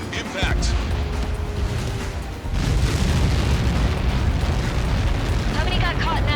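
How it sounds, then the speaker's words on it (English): A long, roaring blast as a missile hits in the Ace Combat 7 video game, a heavy rumble that swells and stays loud for several seconds, with a second surge partway through. "How many got caught in that explosion?"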